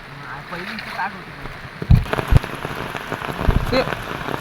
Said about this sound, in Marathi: पावसाचा आनंद कसा घ्यायचा